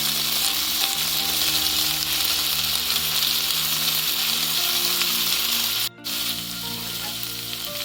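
Tofu sizzles and fries steadily in a hot stir-fry pan with vegetables and sweet chili sauce, a loud continuous crackle that briefly cuts out near the end before resuming.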